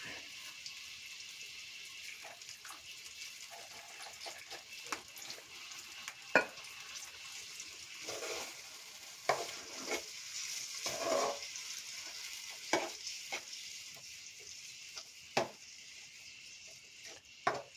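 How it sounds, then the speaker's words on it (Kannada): Jackfruit seed chutney bubbles and sizzles in a pan while being stirred, with a steady soft hiss broken by irregular scraping clicks and taps of the spoon against the pan. "ಇನ್ನು ಸ್ವಲ್ಪ ಚೆಂದ ಕುದಿಸ್ಬೇಕು ಇದನ್ನು."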